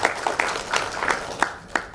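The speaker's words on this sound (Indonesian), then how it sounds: "Tepuk tangannya dong, buat kita semua." A small crowd at a roadshow event in Solo gives a brief round of light clapping, scattered claps spiking irregularly over about two seconds.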